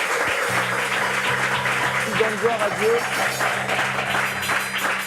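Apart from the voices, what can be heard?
audience applause for the pastor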